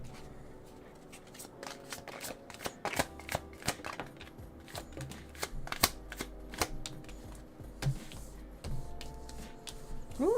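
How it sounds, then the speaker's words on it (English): Tarot cards shuffled and flipped close up, a dense run of crisp snaps, riffles and soft slaps in an irregular rhythm, with no voices. "we got cards just flipping out here"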